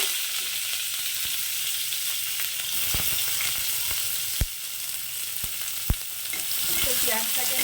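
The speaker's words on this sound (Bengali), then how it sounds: "পেঁয়াজটা ভাজা ভাজা হয়ে গেছে" Chopped onion fries in a pan for fish khichdi, a steady dense sizzle throughout with a few sharp knocks of a spoon against the pan, close and without talk.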